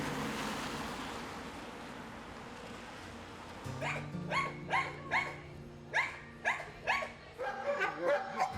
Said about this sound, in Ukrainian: Хто така собака?